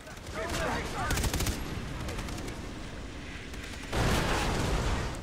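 Gunfire in the video game Far Cry 3, loud sustained bursts of rapid shots and rattling fire filling the whole stretch, surging louder again toward the end, with no voices.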